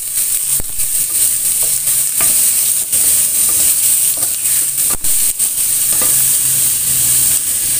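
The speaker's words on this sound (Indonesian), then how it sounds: "Tumis ayamnya sampai mengeluarkan bau harum." Chicken being sautéed in a pan for a chicken and vegetable soup gives a loud, steady hiss of frying, with scattered scraping stirs and clacks of the utensil throughout.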